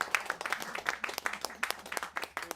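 Audience applauding a live band's guitarist at a venue, a moderate round of dense, continuous clapping throughout with no talk over it.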